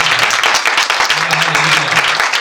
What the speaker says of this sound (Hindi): हमारे करण के लिए और उस भाई के लिए जोर से ताली बजाए